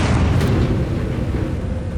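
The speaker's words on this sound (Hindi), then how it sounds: "इसके तुरंत बाद मंदिर पर एक बड़ा ब्लास्ट होता है" Bomb blast at a temple in Bihar: a heavy, low rumbling roar that fills the scene from the start and rolls on at a steady, loud level, with no voices.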